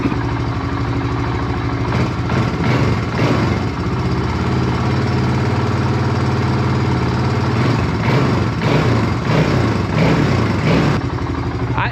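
A Suzuki DR350S motorcycle engine idles steadily and loudly up close, its low even throb holding for the whole stretch with a few faint bumps and rattles over it and no talk.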